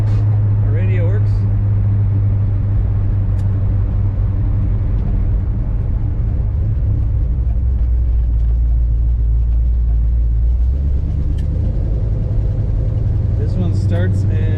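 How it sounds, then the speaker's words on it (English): 1971 Chevrolet Malibu convertible engine idling with a loud, deep, steady rumble and a slightly lopey cam character close by, a brief higher whine near the start and end. "This one starts and idles really good"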